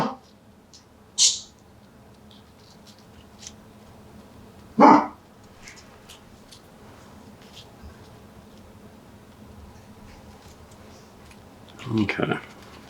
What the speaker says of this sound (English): we have fireworks going on outside and the dog's going crazy